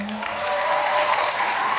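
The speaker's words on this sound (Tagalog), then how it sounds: "Wala po bang palakpakan dyan?" Audience applause at a Miss Gay pageant in Vinzons, Camarines Norte, a steady wash of clapping filling the room, with a short tonal voice at the very start and cheering mixed into the crowd noise.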